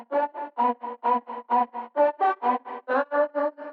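Chopped vocal syllables from an electronic track's build section made in FL Studio, a quick evenly pulsed stutter of short pitched vocal fragments with effects, heard alone and fairly close.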